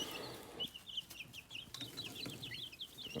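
Chickens in a backyard flock that has just been combined give soft, scattered clucks and short calls throughout, moderately close over a steady low background.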